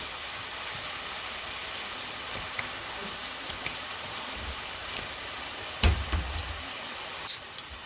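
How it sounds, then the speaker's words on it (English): Fish sears in a big hot skillet for tacos, giving a steady soft sizzle and hiss with a few faint knocks and one louder clunk near the end, no talking. "What we're going to do is be searing this off."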